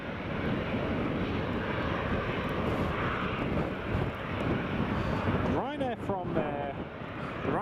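A fixed-wing airplane at Newcastle Airport roaring steadily with loud engine noise and wind buffeting, with a person talking over it.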